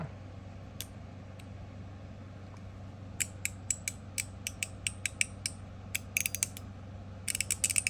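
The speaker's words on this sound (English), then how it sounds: "It's kind of interesting how it's got like a ratchet back." A fidget toy's ratchet mechanism gives sharp, close clicks. A few scattered ticks come first, then steady runs of clicking, ending in rapid bursts, with no talk.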